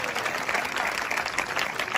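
A crowd at a Hindi poetry gathering (kavi sammelan) claps in dense, sustained applause, a loud, even wash of many hands with no pauses.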